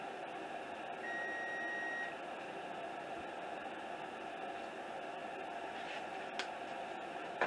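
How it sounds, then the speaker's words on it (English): A home oven chimes that it has finished preheating: a steady tone sounds for about a second against a constant background hiss and hum. No one speaks. "I heard my oven's ready"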